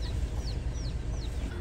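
Chickens and roosters clucking and chirping in short bursts over a steady low outdoor rumble on Kauai, Hawaii, with several brief calls spread through.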